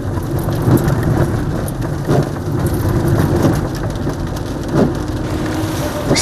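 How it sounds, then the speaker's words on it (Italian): Continuous heavy rain falling at night on the road between Preci and Visso, a steady close roar of drops on surfaces with occasional heavier splashes and low rumbles underneath. "La pioggia è continua e i disagi aumentano."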